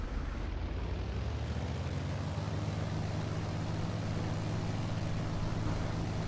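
A Lancair Legacy FG aircraft's small engine drones steadily in the X-Plane 10 flight simulator, a constant even hum at moderate level with no speech.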